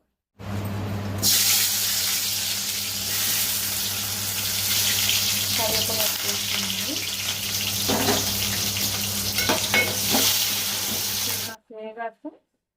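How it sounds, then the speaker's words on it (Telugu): Chopped onion and green chillies hit hot oil in a pan, setting off a sudden loud, steady sizzle that holds for about ten seconds before cutting off, with a few faint stirring knocks inside it. "ఇప్పుడు ఆయిల్ కాగిందండి. ఇప్పుడు ఉల్లిపాయ పచ్చిమిరపకాయ వేసుకుందాం."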